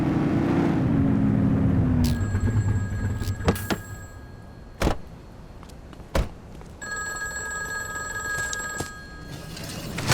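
A payphone rings in a police game, a city street setting with repeated electronic trills separated by pauses. Occasional sharp thunks and distant passing traffic sound in the background.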